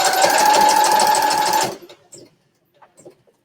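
A sewing machine stitches down a quilt at a craft and sew shop, running loud and steady for under two seconds before stopping abruptly, followed by faint clicks and soft handling noises.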